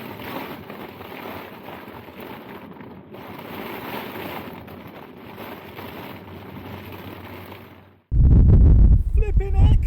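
Strong Storm Eunice gusts roar past a moored narrowboat in a continuous, rushing, buffeting wind that fills most of the stretch, then a person speaks loudly and close to the microphone at the end.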